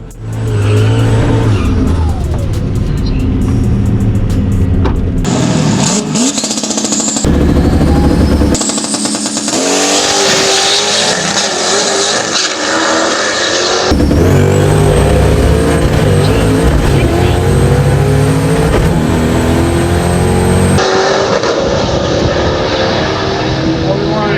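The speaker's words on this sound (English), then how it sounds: "we decided to jump in the white car and make a pass down the track" A turbocharged GT40-engined Foxbody Mustang street car makes a quarter-mile drag strip pass, its engine roaring loud and close through repeated gear changes with rising pitch, turbo whine over the top, and brief dips between shifts.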